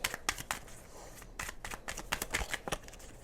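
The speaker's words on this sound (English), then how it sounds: "A couple more shuffles and we're going to hop in for my Capricorns." A deck of tarot cards being shuffled in quick, crisp riffles and flicks, a series of close, sharp bursts with brief pauses between them.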